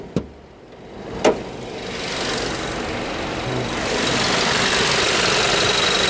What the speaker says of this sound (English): Nice little four-cylinder engine.